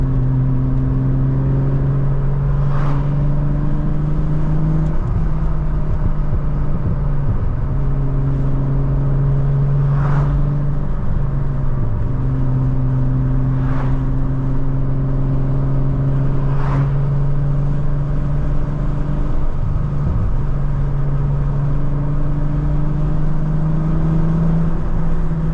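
A 1994 Volkswagen Corrado SLC with its VR6 engine drones loudly and steadily from inside the car while driving, the pitch dipping briefly at a few gear changes; no one speaks.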